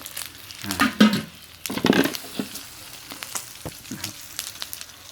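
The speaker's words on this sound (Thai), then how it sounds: "อันนี้หมูสามชั้นนี่ผมก็คุกเกลือแล้วนะครับเราก็เอามาทอดมาขั่วก่อนนะครับ" Salt-cured pork belly sizzles and crackles in oil as it is fried and stir-fried in a pan, with louder bursts of scraping and tossing early on before settling into a steady, close sizzle.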